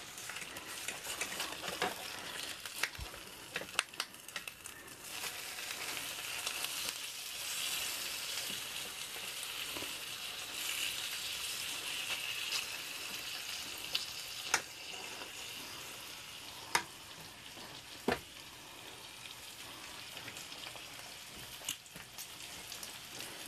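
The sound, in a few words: bacon frying in a pan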